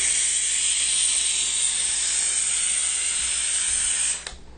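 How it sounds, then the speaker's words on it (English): A small steam machine running at full power gives off a loud, steady hiss of escaping steam that holds constant, then cuts off abruptly near the end. "keeping the water hot enough so it can steam"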